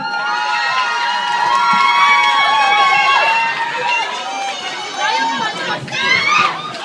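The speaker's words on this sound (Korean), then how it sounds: "자, 박수 좀 주세요." A loud crowd of spectators, children among them, cheers and shouts in sustained bursts at a charity bazaar with the group U-KISS at Namsanwon, with no distinct clapping standing out.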